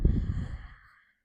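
A single soft, close exhale during a yoga stretch while rounding the spine, a breathy sigh that starts strongest and fades away within about a second, quiet and alone.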